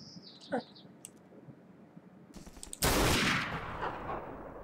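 Gunfire in the video game Garry's Mod: a quick stutter of shots, then a loud, sustained roar of rapid fire that fills the rest of the moment, preceded by a brief high whistle and faint chirps.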